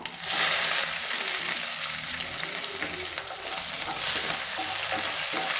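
Onions and curry leaves sauté in hot oil for a homestyle village-style mutton kari kulambu, a loud, continuous close-up sizzle broken by the scrape and rattle of stirring, with no one speaking.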